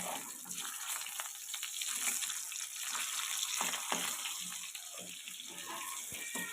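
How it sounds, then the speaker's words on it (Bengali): Fish fries in hot oil in a kadai, giving a steady close bubbling sizzle with scattered crackles and small pops throughout. "তো কড়ার তেল গরম হয়ে গেছে, গরম হতে আমি মাছগুলো দিয়ে দিই।"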